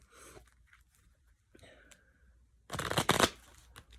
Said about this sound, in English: 2 more shuffles for our Virgos